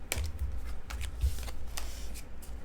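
Tarot cards being shuffled by hand, a run of soft papery riffles and flicks in a quiet room, close and steady with no talking.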